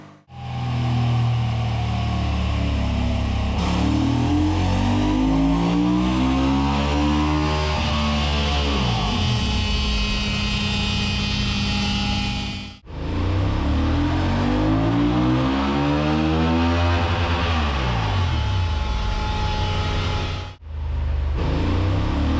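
A Honda CB 750 Hornet motorcycle engine revs hard on a dynamometer in two long sustained pulls, pitch climbing steadily to a screaming high before cutting off, then a short third burst; loud and close.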